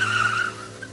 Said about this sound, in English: They also heard a car screeching off.